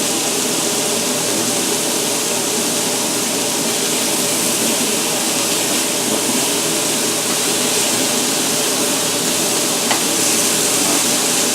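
Beef chunks for Russian stroganoff sear and get stirred in a hot pan, a steady, loud, close sizzle with faint scraping running unbroken for the whole stretch and no talking.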